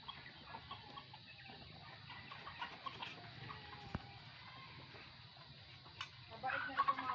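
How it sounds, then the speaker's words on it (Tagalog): Backyard chickens cluck softly and intermittently, mixed with faint ducks and geese in a rural yard, with low background noise and a brief louder bird burst near the end. "Mabait na itong mga manok."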